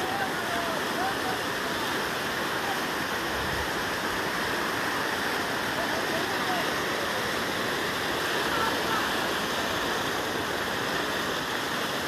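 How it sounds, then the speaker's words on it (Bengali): Strong floodwater in the Barak Valley, 2018, rushes over a submerged road in a steady, loud, roaring wash that continues without a break. "আপনারা দেখতে পাচ্ছেন জলের স্রোত প্রচণ্ড।"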